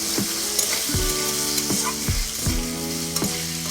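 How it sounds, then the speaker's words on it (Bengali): Potatoes fry with whole cumin seeds in a pan for a vegetarian cabbage ghonto, a steady loud sizzle with rhythmic scraping and stirring strokes of a spatula, close up and without talk. "1 চামচ মতো গোটা জিরে দিয়ে আবারও খানিকক্ষণ ভেজে নিব"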